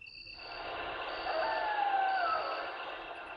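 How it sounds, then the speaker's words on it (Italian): Crickets chirp in the Resident Evil: Director's Cut game, a steady, high-pitched insect trill that rises slightly in loudness and then holds, alone with no talk. "Anche i grilli."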